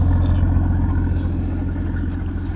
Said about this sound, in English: That sound you're hearing is the transmission.